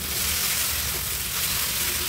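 Okra fries in a pan as it is shaken rather than stirred, giving a loud, dense, steady sizzle close up, with no talking.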